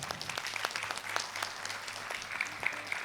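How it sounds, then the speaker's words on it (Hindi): Students in a classroom clapping for a classmate, a fairly quiet, steady patter of hand claps with sharp individual slaps standing out, lasting the whole stretch. "भाई इनके लिए ताली बजाओ"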